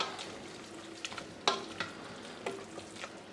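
Fennel and onion jam sizzles quietly in a pan while a spoon stirs it, with a few sharp scrapes and clicks against the pan over a soft constant frying hiss.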